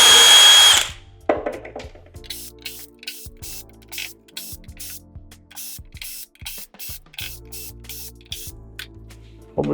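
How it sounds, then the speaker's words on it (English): Power screwdriver backing screws out of a JBL Partybox 720 speaker during a teardown, a loud hiss opening into a run of short whirring bursts, each spin-out clear and close with brief pauses between. "it took some time to remove all these screws"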